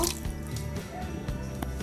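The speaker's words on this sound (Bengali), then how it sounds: "এখন এর মধ্যে আমি পানি দিয়ে দিব মাংসটাকে ভালো করে আগে সিদ্ধ করে নিব" Water poured into a pot of browned beef being cooked for Bangladeshi kala bhuna, a brief close splashing and dripping with bubbling liquid, no talk.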